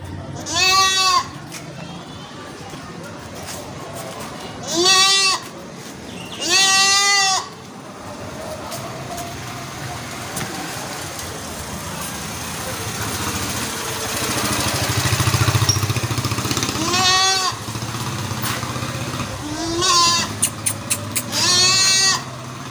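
Goats of a home breed offered for sale in Karachi bleat loudly in several separate bursts, some drawn out and some quick and stuttering, over a low engine idle and background murmur.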